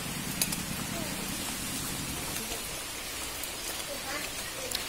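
Steady rain falls through a wet morning, a constant broadband patter with occasional drips and splashes nearby, while a low hum and faint voices sit underneath in the first half.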